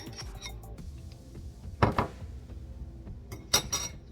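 Beaten eggs are mixed into cornbread dressing in a bowl, with a spoon clinking and scraping against the dish in a few sharp knocks separated by quieter stirring, close and fairly loud.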